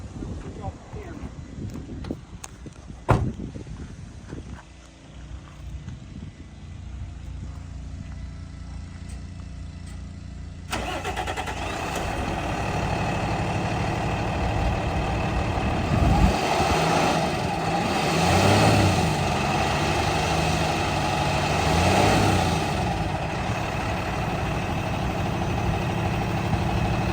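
A 2016 Freightliner M2 dump truck with a Prentice 2124 grapple boom sits quietly amid wind noise, then its diesel engine starts abruptly and settles into a loud, rumbling idle close by.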